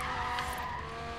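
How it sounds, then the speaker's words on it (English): A car drifts in Forza Horizon 3 with a loud, sustained tire squeal over a steady engine drone, one continuous skid lasting about a second. "wow, that was a good drift"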